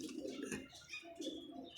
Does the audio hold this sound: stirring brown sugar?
no